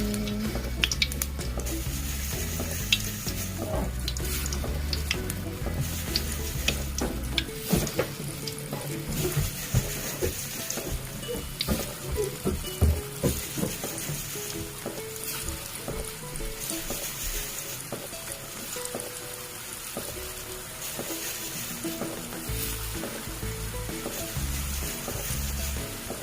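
Usel dough balls drop one by one into hot frying oil, giving a loud, continuous close sizzle and bubbling crackle that shifts and thickens as more balls go in.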